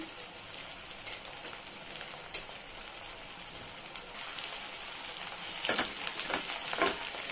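Garlic and onion sautéing in a pan for a spicy garlic curry, a steady soft crackling sizzle throughout that grows a little busier and louder near the end, with no one speaking.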